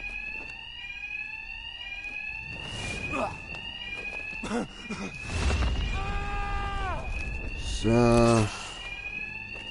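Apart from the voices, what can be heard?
alarm ringing in Batman Arkham Knight video game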